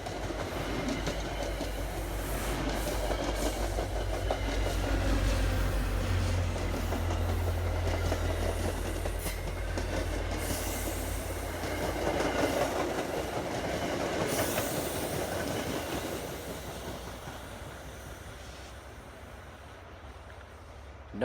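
An MBTA commuter train rolls past on the tracks for about twenty seconds, a loud, steady rumble of rail cars with clickety-clack wheel noise and a low locomotive drone that fades slightly toward the end.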